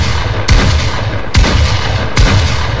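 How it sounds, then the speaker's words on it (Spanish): A shotgun fires three times in Fortnite, each blast a loud sharp crack with a booming tail, spaced roughly a second apart over a steady background of game noise. "Una vez que empieza el juego, recogemos la escopeta,"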